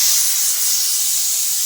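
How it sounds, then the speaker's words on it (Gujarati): A pressure cooker whistle releases a steady, loud hiss of steam while stuffed brinjal curry cooks, a continuous close spray with no talking. "સીટી પણ વાગી ગઈ છે"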